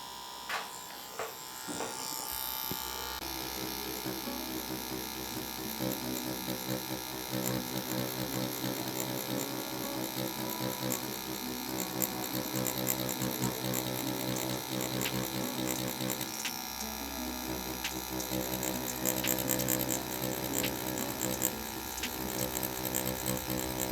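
Inkin Fato permanent makeup tattoo machine running continuously, a steady fine buzzing whine held at an even loudness throughout, close up with no talking.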